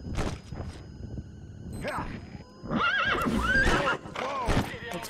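A horse whinnies loudly several times amid hoof clops and game sounds in Metal Gear Solid V: The Phantom Pain, with a voice talking over parts of it.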